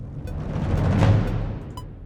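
Orchestral percussion roll from a ProjectSAM Symphobia 4 Pandora sample library, a single rumbling roll that swells and fades over about two seconds, alone.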